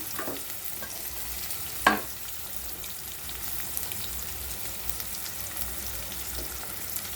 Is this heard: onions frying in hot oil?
yes